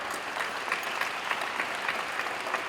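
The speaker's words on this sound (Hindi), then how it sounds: "योग के लिए ताली बजाओ।" A crowd applauds in praise of yoga at an international event. Dense, even clapping holds steady throughout, heard at a fairly faint, distant level with no talk over it.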